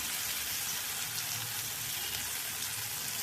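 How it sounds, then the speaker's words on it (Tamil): Tomatoes sautéing in oil in a pan for lemon rice, a soft, steady sizzle and crackle throughout, faint and close, with no talking. "நல்லா எண்ணெயிலே வதங்கட்டோம் பாருங்கள் தக்காளி நல்லா வதங்கிட்டு"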